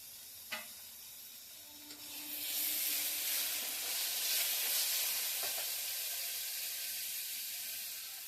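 Ginger-garlic paste and tomato hit a hot pan for stuffed Malvani-style eggplant masala, a sudden bright sizzle that swells into a steady close hiss after a couple of soft knocks.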